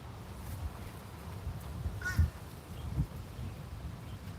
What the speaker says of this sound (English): That was an interesting bird noise.